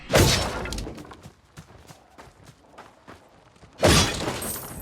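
Objects smashing in the action RPG Wolcen: Lords of Mayhem, with two loud bursts of breaking and shattering at the start and end and a run of smaller cracks and clatters between them.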